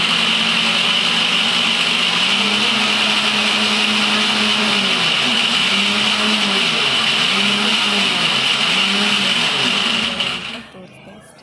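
A kitchen mixer grinder blends juice with a loud, steady motor whine whose pitch wavers up and down in repeated swells, then cuts off abruptly near the end.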